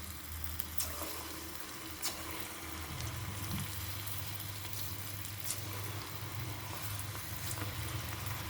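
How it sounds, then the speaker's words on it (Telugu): Punugulu fritters made from jonna flour batter go into hot oil in a kadai on the stove, giving a faint, steady sizzle and hiss over a low background hum, with a few soft clicks. "ఆయిల్ కూడా కాగిందండి, వేడెక్కింది. మనం పునుకులు వేసేసుకుందాం."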